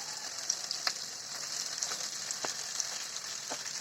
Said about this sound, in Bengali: এই সবগুলো মশলা দিয়ে খুব সুন্দরভাবে কষিয়ে নিচ্ছি